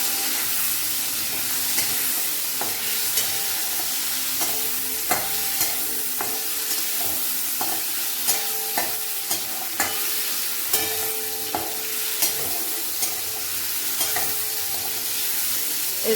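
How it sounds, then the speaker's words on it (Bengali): Potatoes frying in a pan, a continuous close sizzle punctuated by regular scrapes and clicks of stirring, steady and fairly loud with no voices. "এখন আমি আলু ভাজা ভাজছি"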